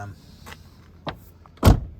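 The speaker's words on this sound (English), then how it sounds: "There's always that reassuring clunk when you shut the door on a Mercedes from this era." The door of a 1990 Mercedes 190E shuts with a single solid, close clunk, preceded by a couple of faint small clicks in a quiet interior.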